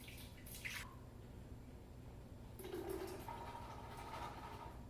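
Running water from a tap splashes steadily over a strainer being rinsed, with brief clatter and rinsing noises over a constant low hum.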